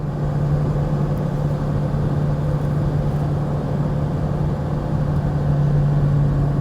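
A 2000 Ford Excursion XLT with a 7.3L Powerstroke diesel and 4WD cruising on a highway, giving a steady, loud, continuous drone and road rumble with a constant low hum throughout, no talk.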